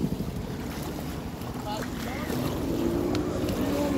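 Jet ski on open water near swans, a low engine rumble under heavy wind buffeting and water wash, steady and growing slightly louder, with faint voices in the background.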